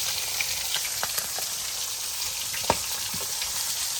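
Constant hissing sizzle of food frying in a pan, close and even, with a few small pops and one sharper clink near the end.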